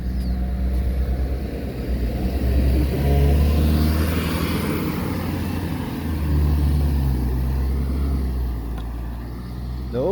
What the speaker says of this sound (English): You can see how the electric buses come over this hill.